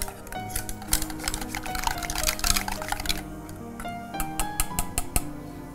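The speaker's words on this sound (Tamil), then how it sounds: "இந்த தண்ணி கொதிக்க ஆரம்பிச்சிருச்சு" A pot of water coming to the boil on a cooking show before spinach goes in, with quick irregular bubbling pops and ticks over a low simmering rumble, close and moderately quiet.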